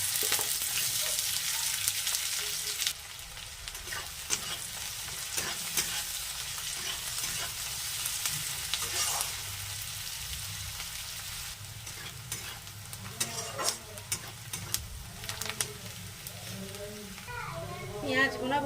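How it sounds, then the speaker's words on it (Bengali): Chopped onion sizzles steadily in oil with cloves, cinnamon, cardamom and bay leaves, with a loud continuous frying hiss and occasional stirring scrapes, while faint children's voices are heard in the background. "এবার দিয়ে দেবো পেঁয়াজ কুচি।"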